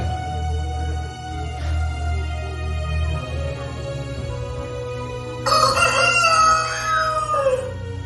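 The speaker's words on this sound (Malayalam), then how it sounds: "ഇന്ന് രാത്രിയിൽ തന്നെ കോഴി 2 പ്രാവശ്യം കൂറുന്നതിന് മുമ്പ്" At a Good Friday Way of the Cross service, a rooster crows once, loud and drawn out, near the end, following a stretch of steady background tones and hum.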